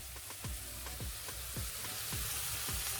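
Mussels sizzle and fry steadily in hot oil in a pan, a continuous close crackle with occasional louder pops and soft clinks, no talking.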